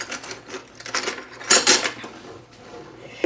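A metal spoon clinks and scrapes against a container while scooping mayonnaise, a few sharp close taps and scrapes in an uneven rhythm, with the loudest burst midway.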